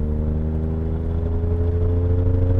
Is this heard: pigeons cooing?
no